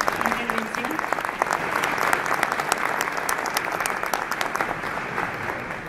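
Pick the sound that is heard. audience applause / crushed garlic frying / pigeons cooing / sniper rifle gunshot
audience applause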